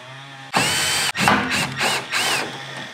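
A power drill with a flexible bit holder backs out 5/16 or 3/8 inch screws holding a furnace or AC blower motor housing: a loud, close continuous whir, a brief cut, then several bursts of drilling with short pauses between them.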